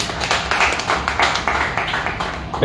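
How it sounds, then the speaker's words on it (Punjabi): An audience at a Sarghi Kala Kendra 35th anniversary gathering claps together in a sustained burst of close, loud hand claps lasting throughout, with a faint voice underneath. "ਆਪਣੇ ਲਈ ਤਾੜੀ ਮਾਰੀ ਆਪਾਂ ਸਾਰੇ"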